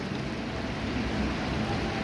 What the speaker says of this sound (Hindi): क्या बादल गरज रहे भाई, पूरी रात चलने वाली बारिश है ना बाबू?